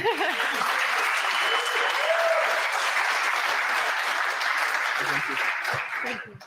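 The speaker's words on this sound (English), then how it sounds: "So let's give you also a round of applause." A game jam finals audience at the GameJamPlus continental final in Europe applauds in a steady, sustained burst of clapping that continues for several seconds before tapering off.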